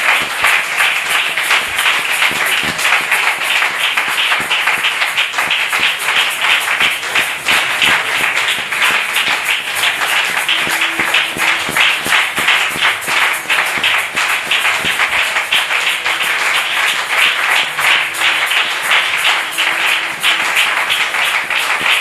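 A church congregation claps and cheers continuously, a dense, even wash of applause sustained at full level from start to finish.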